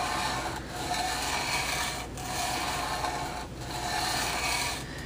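A steel knife blade is drawn across a wet whetstone in repeated, even rasping strokes, a gritty scraping sound that pauses briefly about every second and a half, close and moderately quiet.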